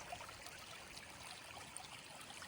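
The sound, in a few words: seasonal creek flowing water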